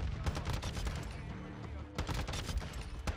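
ISO Hemlock rifle fire in a multiplayer shooter, a rapid run of sharp shots in two bursts separated by a short lull, set against steady game noise.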